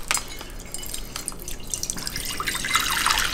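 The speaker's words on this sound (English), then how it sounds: "I'm going to pour it in." Water holding a live octopus poured into a container, a close, steady splashing pour that grows brighter and louder toward the end, with no talking.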